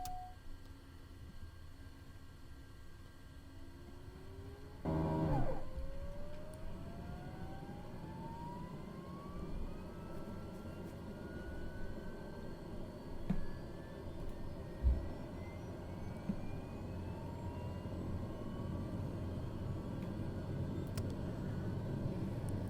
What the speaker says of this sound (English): start the right engine